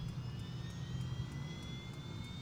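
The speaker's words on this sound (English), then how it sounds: "So let's go ahead and turn engine 2. Enjoy the startup sounds." A simulated King Air 350 turboprop spools up on its number two engine start, a steady rising whine over a low rumble, with faint regular ticking.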